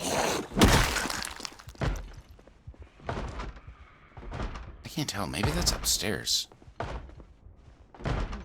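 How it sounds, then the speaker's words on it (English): In Project Zomboid, a zombie batters at a door with heavy thuds, bangs and cracking impacts that come in irregular bursts, while people talk over and between the blows. "One zombie, but it's preoccupied by trying to break down the door."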